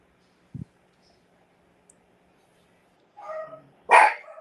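A dog indoors gives two quick barks nearby during a painting session. A faint thump comes first, then a short, soft yip, then a louder, sharper bark in an otherwise quiet room.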